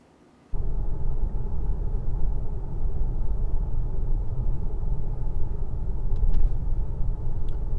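Mercedes S600 Coupe with a V12 engine cruising on a damp gray day, a steady low cabin rumble of engine and road noise that begins abruptly and stays constant and loud.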